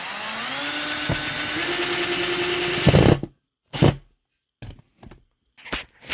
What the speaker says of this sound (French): Et je vais le fixer avec 4 vis